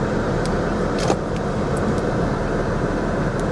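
A Lexus idling and creeping forward on a Copart auction lot, a steady close engine rumble with a few faint clicks and squeaks.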